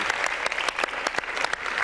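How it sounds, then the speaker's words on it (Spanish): Sustained audience applause at a live educational technology talk, dense and steady clapping from a crowd filling the room, with scattered sharper individual claps standing out and no voices over it. "os pido un aplauso para nosotros"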